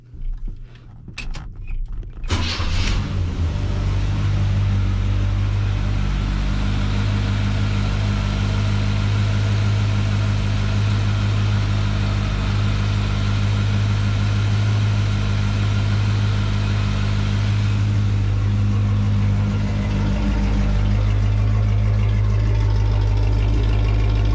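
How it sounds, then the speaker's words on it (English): A small block Chevy engine cranks briefly with a few choppy bursts, then catches and settles into a loud, steady, rumbling idle that runs on to the end, heard alone without talk. "But I know how to start a small block Chevy"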